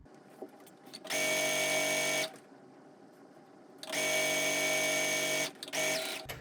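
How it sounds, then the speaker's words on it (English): An electric sewing machine stitches a pencil skirt's back seam closed in two sustained, whirring runs of about a second and nearly two seconds, separated by a quiet pause with small handling clicks. "you want to back tack to the marking and then just sew it closed all the way down"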